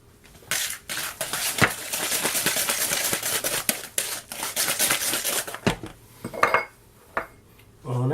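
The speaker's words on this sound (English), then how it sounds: "Just going to change to a hand whisk quickly." Hand whisk beating chocolate fudge cake batter in a bowl, a fast continuous scraping and clinking that runs steadily for several seconds, then breaks into a few separate strokes near the end.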